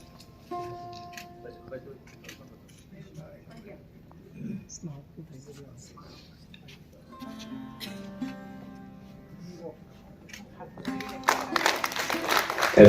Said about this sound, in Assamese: এজাও হাত চাপৰি আহক দিগন্ত শইকীয়াদেৱৰ সৃষ্টিকৰ্মক আমি শলাগ লওঁ সকলোৱে